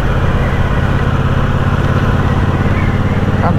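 A 2021 Triumph Bobber motorcycle riding on a winding road, its engine a loud, steady low rumble that holds close and constant, with a faint rising note near the end as the rider shifts gear.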